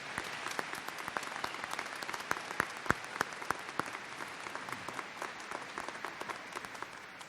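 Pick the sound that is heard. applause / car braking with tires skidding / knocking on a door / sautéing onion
applause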